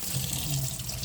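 Water pours steadily from a tap into a sink inside a camper, a continuous close rushing stream with no other sounds.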